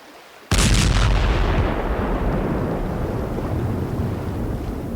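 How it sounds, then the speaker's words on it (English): A boat packed with plastic explosives detonates at sea in a sudden loud blast that rolls into a long, fading roar of rumble and spray. "We're gonna pack it full of plastic explosives."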